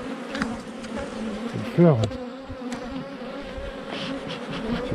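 Honeybees buzz steadily around a hive as a beekeeper works the frames, a dense continuous hum with a brief louder swell midway, while a person speaks briefly nearby.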